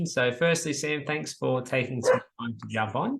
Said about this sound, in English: I think that's my dog in the background.